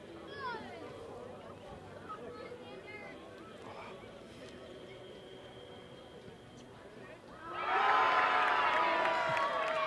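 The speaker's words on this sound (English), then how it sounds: "that's the first major cheer for the crowd," At an NPSL soccer match between American Soccer Club NY and Osner's FC, a commentator talks over quiet stadium ambience before the home crowd erupts into a loud, sustained cheer in the final seconds.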